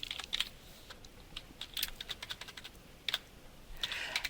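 Fingers tap out a description on a computer keyboard in quick irregular bursts of clicks with short pauses between them, close by and with no one talking.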